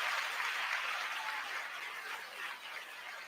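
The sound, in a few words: crowd applause sound effect on radio show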